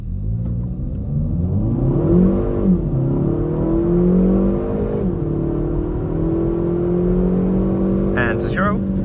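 A Kia Proceed GT 1.6 T-GDI with 204 hp accelerates hard from a standing launch, its engine note climbing and dropping through gear changes, loud and close from inside the cabin, with a brief bright whine near the end.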